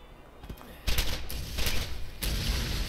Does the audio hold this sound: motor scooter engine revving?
no